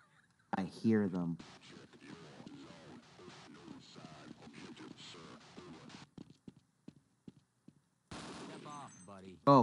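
Half-Life gunfire crackles in bursts amid in-game voices and action, with sharp shots and short gaps, then a loud burst near the end.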